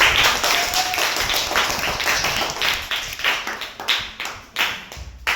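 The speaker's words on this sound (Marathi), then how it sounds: "चला टाळ्या टाळ्या वाजवा एकदा त्यांच्यासाठी." Children in a Marathi village school classroom, a sixth-grade class, clapping together, a brisk run of hand claps that grows into distinct rhythmic bursts near the end, close and fairly loud.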